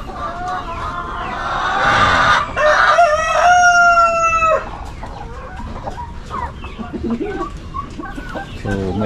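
Chickens on an egg farm fill the air with loud, close clucking, and a rooster lets out a long crow partway through before the busy clucking carries on.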